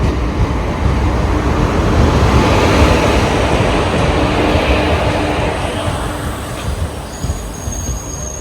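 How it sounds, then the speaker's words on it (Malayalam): Guruvayur–Ernakulam passenger train arriving at a station on the Ernakulam–Thrissur line in Kerala, a loud continuous rumble and clatter of wheels on rails with faint high squeals, easing slightly toward the end. "നമ്മുടെ ഗുരുവായൂർ എറണാകുളം പാസഞ്ചർ വന്നുകൊണ്ടിരിക്കുകയാണ്"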